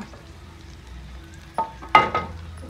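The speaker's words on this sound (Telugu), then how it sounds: "ఉప్మా రవ్వ వేసి కలుపుతామన్నా కదా." Semolina for upma being stirred into a hot tempering in a pan, with a soft steady sizzle and a few louder scraping and stirring bursts near the end.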